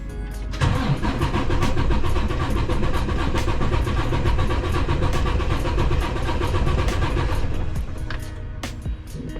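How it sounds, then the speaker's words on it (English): A DD15 diesel engine cranks continuously for several seconds during a compression test, its starter giving a loud, rhythmic churning that stops abruptly near the end. "I'm gonna crank it and let's see what happens."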